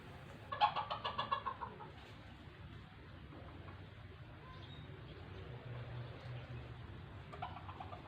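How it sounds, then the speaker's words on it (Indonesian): Several roosters crow in turn in a backyard garden, with a loud nearby crow near the start, quieter answering crows through the middle and another near the end over a steady murmur of background noise. "sambil mendengarkan suara ayam yang berkokok"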